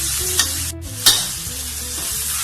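Vegetables and mushrooms stir-fried in a pan, a loud continuous sizzle broken by a couple of sharp stirring scrapes and a brief pause, close up with no voices.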